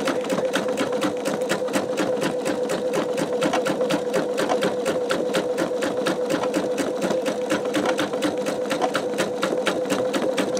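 An embroidery sewing machine stitches a purple design onto a greeting card, its needle hammering in a fast, even, continuous rhythm up close and loud throughout.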